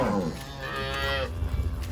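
Cows and calves moo in a pen during a Texas cattle branding sort, several loud overlapping bellows running continuously and close by.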